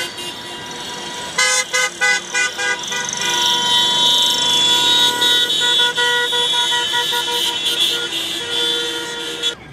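Many car horns honk together in a civic street protest at dusk, a burst of overlapping toots early on giving way to a loud, sustained chorus of blaring horns from vehicles on a busy road.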